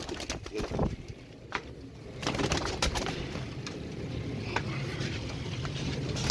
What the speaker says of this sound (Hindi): रिंग पहने में सब के सब रिंग कबूतर है